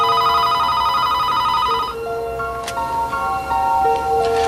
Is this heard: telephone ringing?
yes